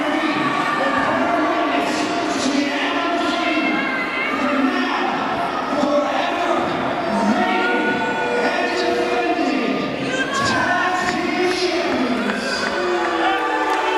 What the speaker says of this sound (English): He is being drowned out by the boos here.